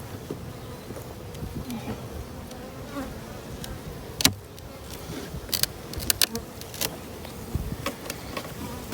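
Honeybees buzzing steadily around open hives and a swarm box during an inspection, a dense close hum with occasional sharp knocks and clicks of hive equipment, no voices.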